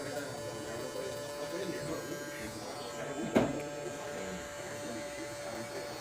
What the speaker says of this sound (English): There is a bit of pressure on the clipper right now